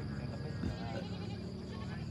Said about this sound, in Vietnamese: Đây có mấy con dê con này các bạn này